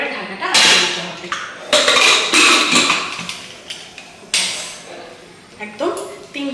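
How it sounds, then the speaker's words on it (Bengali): A metal pressure cooker lid is fitted and locked onto the pot while mutton cooks, a series of sharp clanks and scrapes in irregular bursts, close and fairly loud. "এবারে প্রেশার কুকারে ঢাকাটা আটকে দিতে হবে"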